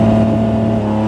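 Held at launch control, a Lamborghini Murcielago SV's engine drones loud and close in a steady high-rpm hold with strong sustained harmonic tones and no voices.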